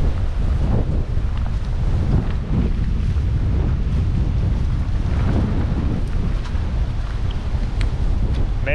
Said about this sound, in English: Major, major wind here.